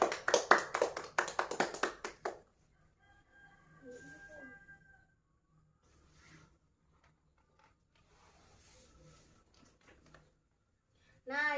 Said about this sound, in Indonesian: berikan tepuk tangan untuk Vita.